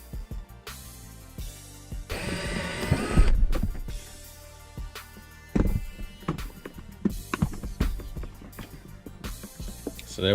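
Phillips head screws come out of the center console lid hinge of a 2007-2014 Cadillac Escalade, with short bursts of motorized whirring from a driver and scattered clicks and clunks, close by and without talk.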